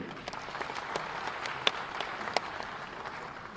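Audience applause at a welcome ceremony during a Chhattisgarh state groundwater conservation mission launch, a steady wash of many hands clapping with a few sharper claps standing out, moderately distant and continuous throughout.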